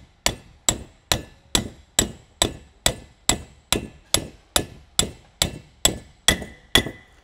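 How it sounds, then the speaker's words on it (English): Hammer strikes on an old bearing used to seat a new boat trailer wheel bearing, about sixteen sharp, evenly spaced metallic blows with a ringing ping, close and steady, without talk. "I might use the other old bearing and tap it into place."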